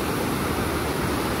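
A swollen, risen river rushes over a rock as a steady, dense roar of water, close and constant with no pauses.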